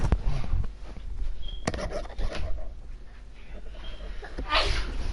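A single loud sneeze near the end, heard over a steady background of a PS4 football game broadcast, with a voice talking nearby.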